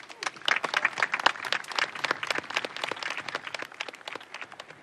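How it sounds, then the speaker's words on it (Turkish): A crowd applauds at a company event in a Turkish comedy film, a quiet, busy patter of many hands clapping that stays fairly even for about five seconds. "Alkış lütfen."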